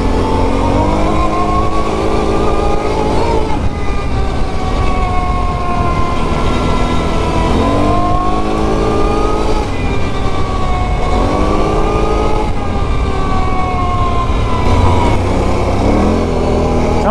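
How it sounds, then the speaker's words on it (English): A Can-Am Renegade 1000 ATV on Tusk Megabite tires accelerates hard, its engine droning loud and close with repeated rising and falling revs as it pulls through gear changes. "See how she pulls."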